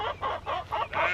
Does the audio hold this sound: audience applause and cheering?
no